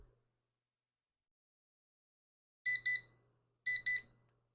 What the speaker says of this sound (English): So for the sake of hearing how the alarm sounds, let's set it for a few seconds.